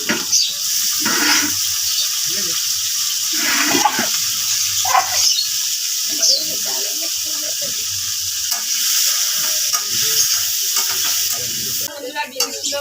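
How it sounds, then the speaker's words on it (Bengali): Green beans frying in a pan, a steady sizzle with occasional stirring and clinks of a utensil, close and continuous throughout. "এবার আমি বিনসগুলোকে ভেজে নেব বন্ধুরা"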